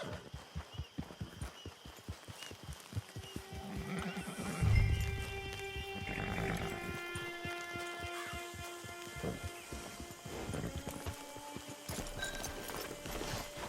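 In a video game, Red Dead Online, hooves clip-clop steadily, then a horse gives a loud, drawn-out whinny, with another neigh later over continued hoofbeats and a faint rushing background.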